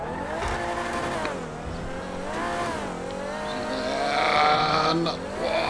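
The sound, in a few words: Dewbauchee Vagner car driving up a spiral ramp, from video game GTA 5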